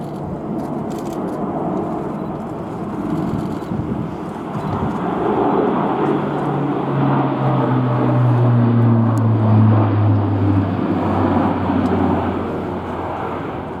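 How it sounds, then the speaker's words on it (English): Airbus A400M powered by four Europrop TP400 turboprop engines, a loud broad rumbling roar with rising and falling tonal whine as it passes at an airshow, with no voices. "A quartet of Europrop International TP400 turboprop engines powering the aircraft"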